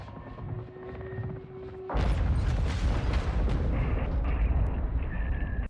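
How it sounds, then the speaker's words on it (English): A sudden loud, rumbling crash of a helicopter going down in Call of Duty Modern Warfare II bursts in after a quieter stretch, followed by sustained roaring and debris-like noise at full volume until cutting off. "After you land, you watch your helicopter go down."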